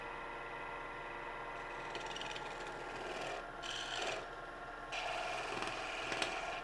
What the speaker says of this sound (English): Spindle gouge enables me to get in there very tight.